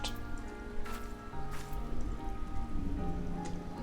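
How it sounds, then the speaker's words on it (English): Rain patters and drips steadily with occasional heavier splashes in the video game Final Fantasy XIV, a soft constant wash over a low background drone. "Getting washed by the rain, aren't you?"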